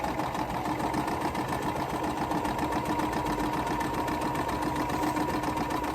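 A sewing machine stitches fabric corner to corner in a steady, rapid mechanical whir with a fine regular clatter. It runs close and unbroken throughout, with no talk.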